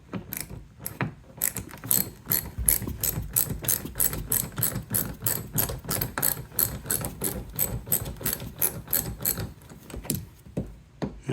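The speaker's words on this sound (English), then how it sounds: "So let's remove the two screws." A ratchet loosens the screws of a mud flap on a Jeep Grand Cherokee L, a loud, close, steady run of fast clicks that continues for several seconds with brief pauses.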